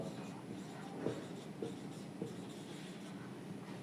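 Chalk or marker writing on a classroom board during a chemistry lesson, a few faint scratchy strokes and taps at intervals over a low room hum, with no clear speech.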